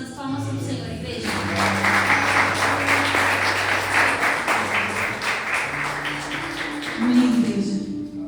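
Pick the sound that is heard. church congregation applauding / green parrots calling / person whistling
church congregation applauding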